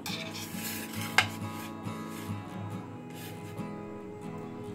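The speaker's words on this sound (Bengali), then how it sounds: "কলাটা আমি একটু কেটে নেব।" A knife cuts a peeled banana into small pieces, producing quiet, soft taps and scrapes against a board or plate, with one sharper click near the start and low background hum throughout.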